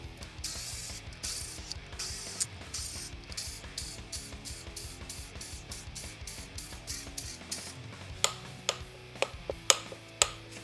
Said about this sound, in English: Torque them all, both the big ones and the small ones.